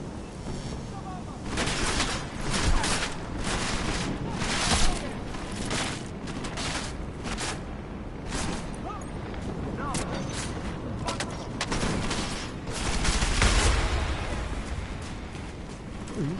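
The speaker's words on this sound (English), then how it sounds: "Lay down some cover fire!" Cover fire in Deus Ex: Mankind Divided, with heavy, continuous volleys of gunfire and booming impacts, loud and close and steady throughout, while voices shout over the shooting.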